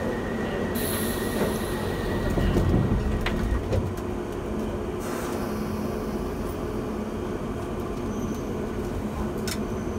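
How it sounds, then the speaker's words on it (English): A London Underground Piccadilly Line tube train runs through a tunnel with a constant rumbling roar, sharp metallic wheel squeals and scattered clanks. No one speaks. "This is a Piccadilly Line service to Heathrow terminals 1, 2, 3 and 5."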